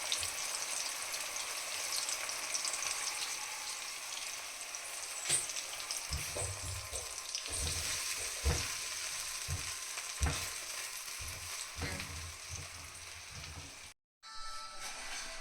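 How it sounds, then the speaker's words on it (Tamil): A pan of paste simmers and bubbles steadily on the stove, a soft continuous sizzle with scattered pops and spoon taps, near and alone without talk. "ஒரு நிமிஷம் கொதிக்க வச்சு அப்படியே இறக்கிடுங்க"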